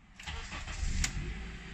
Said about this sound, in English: And then on second crank, it starts as normal.